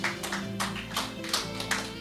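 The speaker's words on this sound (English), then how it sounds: "Give the Lord a good clap." Church congregation clapping during a Sunday service, a few loose irregular claps over a sustained musical hum in a reverberant room, fairly soft.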